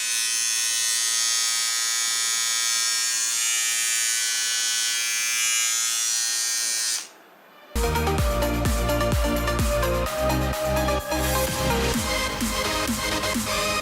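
An Oral-B budget electric toothbrush whirs with a high, steady buzz for about seven seconds, then cuts out briefly before a loud, rhythmic music track takes over.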